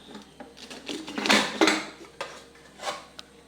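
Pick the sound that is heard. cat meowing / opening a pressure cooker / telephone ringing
opening a pressure cooker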